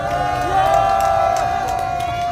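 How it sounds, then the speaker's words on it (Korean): Crowd at a Saturday candlelight protest rally in front of the presidential residence near Hangangjin Station in Seoul cheers and shouts in a steady, dense roar, with a sustained tonal sound, likely a whistle or horn, running underneath. "우리 여러분 따뜻한 박수로 우리 최재형 목사님을 맞이해 주시면 고맙겠습니다."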